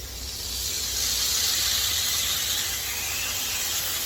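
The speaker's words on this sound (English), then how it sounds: "So right now I'm frying up some bacon. The hickory smoked thick cut." Thick-cut hickory smoked bacon sizzles on an Ozark Trail griddle, a steady broad hiss that swells in the first half second and then holds loud and even, close up with no talk.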